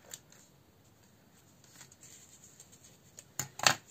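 Scissors snipping off the excess edge of a handmade card set on a snow globe base during a scrapbooking craft, heard as a few faint, brief close cuts near the end of a quiet stretch.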